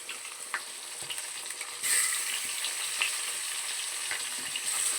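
Fish fries in a pan on an earthen stove, a steady close crackling sizzle that grows slightly louder partway through and keeps spitting with small pops throughout.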